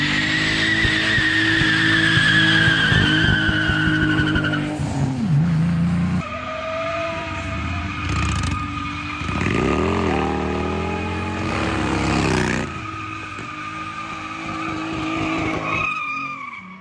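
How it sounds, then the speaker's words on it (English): BMW E39 sedan fitted with a WaveTrac limited-slip differential doing burnouts: loud revving engine and sustained screeching tire squeal in long bursts, with pitch sweeps as the revs rise and fall, nearby and prominent throughout. "do a couple burnouts, and see how she performs."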